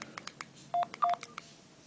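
Keypad tones from the dialer of an Itel A41 Plus phone: a quick, irregular run of short beeps and clicks, with two longer tones in the middle, close and clear.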